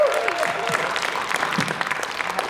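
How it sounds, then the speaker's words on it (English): Round of applause for storytellers at an evening storytelling show, a crowd clapping steadily with a few cheers and murmuring voices mixed in. "Can we have a round of applause for all of the fish who swam through the aquarium so far"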